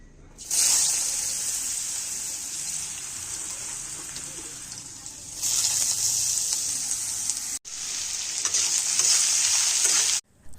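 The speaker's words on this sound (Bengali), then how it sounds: "তো চলো এখন আলুটা ভেজে নেওয়া যাক।" Potatoes fry in a pan with a loud, steady hissing sizzle close by, swelling and easing in long stretches, broken by a couple of brief drop-outs.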